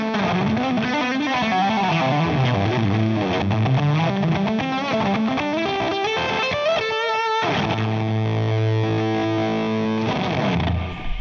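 An electric guitar through a fuzz pedal plays a long, thick, buzzing passage, with sliding notes giving way to held chords, loud and continuous throughout.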